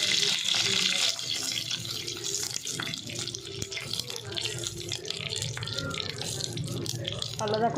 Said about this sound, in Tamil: இப்போ லைட்டாக தண்ணி ஊற்றிக்கலாம்